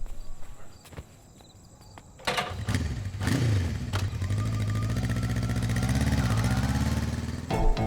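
An auto rickshaw engine starts with a sharp rattling burst partway through, then runs on in a loud, steady, buzzing drone as the vehicle pulls away along a street.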